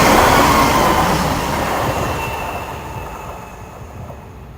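A train from the video game Payday 2 rumbling past with wheel squeal and rail noise, loud at first and then fading steadily into the distance, with no talk.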